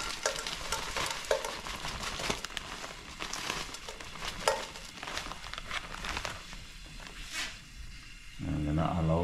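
Brown sugar frying in a pot for Guyanese pepperpot, a soft sizzle broken by scraping stir strokes, with a person speaking intermittently.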